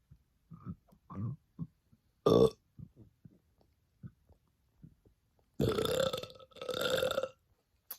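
Short bits of soft vocal noise and one sharp burp come first, then two long, loud belches back to back near the end.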